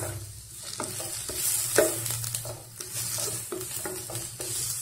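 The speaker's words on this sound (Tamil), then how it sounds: "டூ மினிட்ஸ் நல்லா வதக்கி விடுங்க." Tomatoes sauté in a pan for masoor dal curry, a close sizzle broken by repeated rhythmic scraping stir strokes of a spoon against the pan, with no talking.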